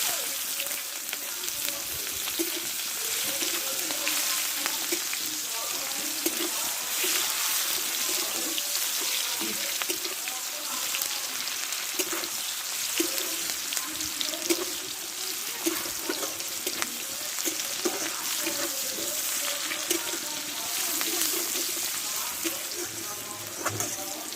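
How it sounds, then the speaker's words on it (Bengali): Thick-cut onion frying in a pan with dried red chillies, giving a steady, loud, continuous hiss and crackle throughout with no talking. "এখন পেঁয়াজটা ভেজে নিয়েছি"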